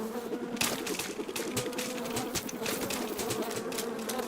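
In Metal Gear Solid 3, bees swarm from a shot beehive, a dense, steady buzzing drone with scattered sharp clicks and pops layered over it throughout.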